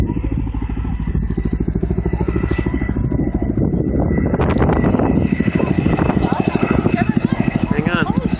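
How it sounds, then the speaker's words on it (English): A loud, close Chinook helicopter flying overhead at Yaquina Head, with rapid rhythmic blade thumping and engine drone throughout, while people talk over the noise. "Look, there's a helicopter."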